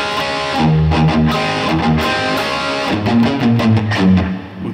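Distorted electric guitar slowly playing the opening two bars of a riff, thick sustained chords and single notes ringing with overdrive, close and loud with no talking.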